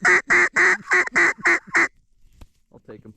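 Mallard drake ducks calling from a hunting spread, a run of seven loud, evenly spaced raspy quacks close by, then a brief pause and faint low chatter toward the end.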